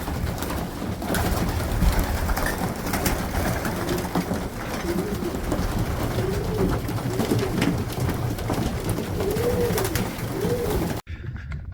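Pigeons coo repeatedly in soft, rolling phrases close by, over a steady low background hum, ending abruptly.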